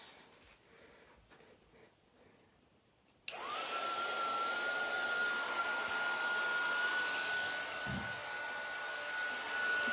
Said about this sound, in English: let's get the heat tool out.